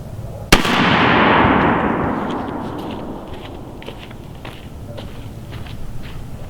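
A Remington 870 shotgun fires a single 3-inch Winchester Longbeard turkey load outdoors, a sharp, loud close blast followed by a long fading rumble, then faint rustling and footsteps.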